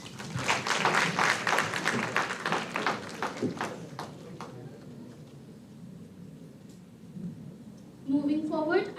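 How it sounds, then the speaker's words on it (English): Audience applause welcoming dignitaries at a one-day academic conference, a dense burst of clapping over roughly the first four seconds that fades into room murmur, followed by a voice speaking at the end. "please welcome our dignitaries with a huge round of applause"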